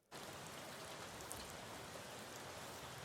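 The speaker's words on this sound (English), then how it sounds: "so that's my rain there" Steady rain sample loaded for beat-making on an MPC, a dense even hiss of falling rain with soft scattered drops, continuous and alone throughout.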